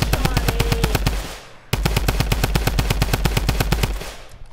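Rapid automatic gunfire crackles in Fortnite in two loud sustained bursts separated by a brief pause, each a dense train of sharp evenly spaced shots.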